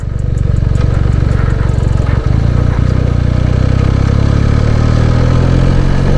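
A motorcycle with about 72,000 on the odometer rides along a road past a wedding venue, its engine close and loud in a continuous mid-low throbbing hum with a brief dip near the middle.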